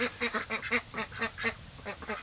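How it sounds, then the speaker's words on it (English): Homestead ducks quack rapidly and excitedly in a dense, uneven burst of calls, close and fairly loud, with no voices. "The ducks are going crazy."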